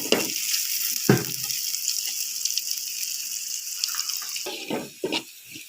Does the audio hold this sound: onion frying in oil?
yes